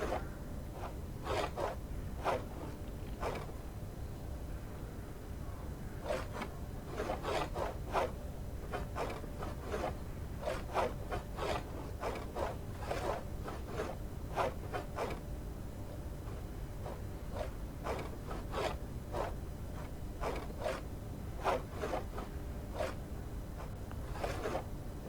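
A chisel shaving wood in Gunsmith Simulator, repeated short scraping strokes in irregular bursts over a steady low background hum, close and moderately loud.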